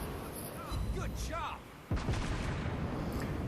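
Naval gunfire from a warship in World of Warships Blitz: a single sharp, heavy cannon report cracks out midway, loud and close, followed by a rolling rumble over a quieter bed of ship and game noise.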